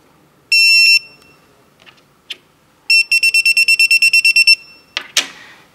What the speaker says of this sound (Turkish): LED bir kez yanıp söner, uzun bir bip sesi duyulur ve cihaz sesli modda açılır